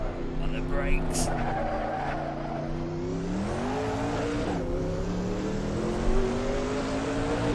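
In a racing video game at Spa's Eau Rouge, a race car brakes hard with a loud, sustained tire squeal over a droning engine whose pitch dips and then climbs again.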